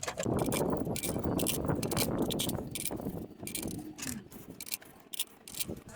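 Ratchet wrench clicking as 10mm valve cover bolts are torqued on a 2015 Honda Pilot engine, rapid repeated mechanical clicks in close bursts across the whole stretch.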